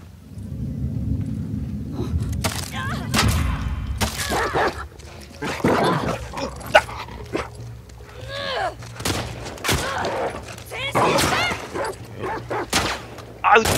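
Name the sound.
dogs barking in The Last of Us Part II video game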